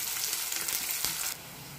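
Onions, mustard seeds and curry leaves sizzle in hot oil, a steady close crackling hiss that drops slightly in level near the end.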